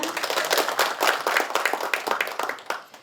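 A crowd claps to welcome the Gyeongsangbuk-do governor at a provincial agreement-signing ceremony with Kyungil University and the Gyeongbuk Research Institute, a continuous burst of many hands that thins out near the close.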